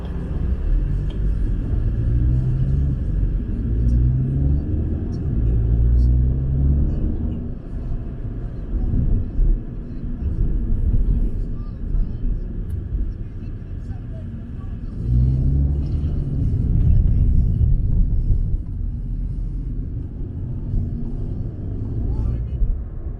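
A Volkswagen Golf Mark 7 drives around a city center, its steady low engine and road rumble continuous and close throughout, swelling slightly in places as it accelerates.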